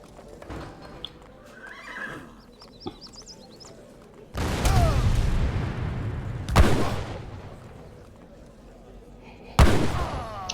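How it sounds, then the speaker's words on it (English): Heavy cannons firing in the real-time strategy game Age of Empires III, with several loud booming blasts spaced a few seconds apart over horse whinnies and clip-clop of hooves and other battle ambience. "Two heavy cannons."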